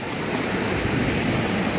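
Ocean waves crash on a beach at a resort, a loud continuous roar of surf with wind buffeting, no voices.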